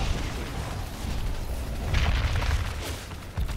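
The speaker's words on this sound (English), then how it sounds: "getting that initial damage from far away with those napalm grenades" Napalm grenades going off in a tournament video game match: muffled booming blasts and crackling bursts over a dense rumble, moderately loud, with a sharp pop near the end.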